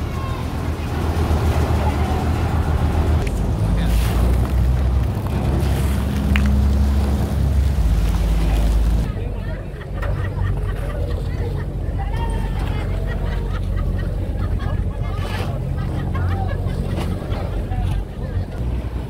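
Traditional passenger boat on Lake Toba at Balige during an F1 powerboat race, its engine giving a loud, steady low rumble with wind buffeting the microphone, easing slightly halfway through.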